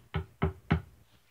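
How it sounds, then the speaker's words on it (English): Three firm, evenly spaced knocks on a door, close and crisp against a quiet background, with no voices. "I hear a knock at the door."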